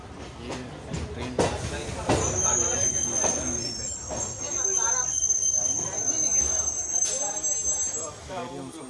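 A train runs on its rails near a station, giving a steady rolling rumble with a thin, high wheel squeal that drifts in and out, and a few sharp knocks over continuous noise.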